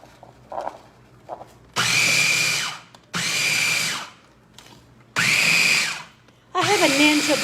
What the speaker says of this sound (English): I have a Ninja blender,